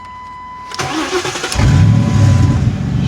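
A Ford Panther car in neutral cranks briefly with a starter whine, then its engine catches and settles into a loud, close, rumbling idle.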